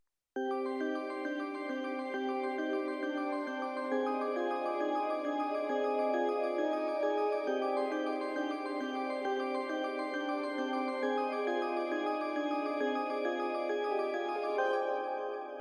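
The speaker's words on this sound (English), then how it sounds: "And all the melodies together sound like this." Dark trap melodies layered in FL Studio play together as a steady, sustained synth stack, with no drums or voices, holding an even level for about fifteen seconds before stopping.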